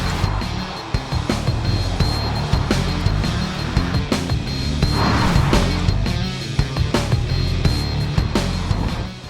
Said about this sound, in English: I'll go round in the Ferrari.